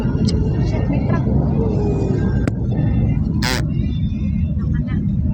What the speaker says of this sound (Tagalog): Shit, may truck.